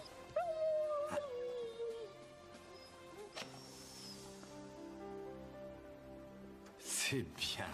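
A dog whimpers nearby in a short, rising and falling high whine, followed by quieter rustling and a few sharp knocks in an otherwise calm scene.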